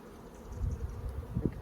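Honeybees buzz around a backyard hive, a close, low hum that swells and wavers over a brief stretch, rising loudest near the end.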